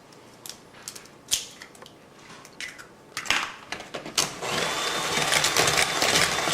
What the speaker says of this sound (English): just to get it mixed in so it's going to be throughout the cookie dough